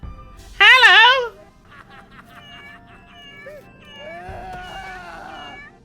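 A cat in an episode of the Cowboy Bebop anime gives a loud, high wavering meow, followed by quieter drawn-out cries and whining tones over a faint background.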